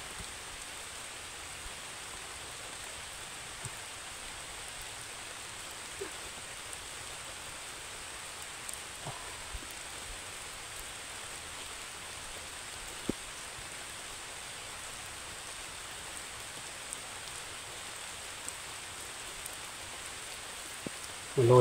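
Steady rain falling outdoors, an even, dense hiss of drops that holds unchanged throughout, fairly faint, with a few tiny isolated ticks and no talking.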